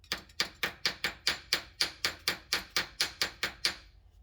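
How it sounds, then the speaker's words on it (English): Close hammer blows ring out on a metal marker light held flat against a vise edge, sixteen sharp, evenly spaced strikes in quick succession before stopping. "I'm going to flatten it out with just the hammer and the vise edge here"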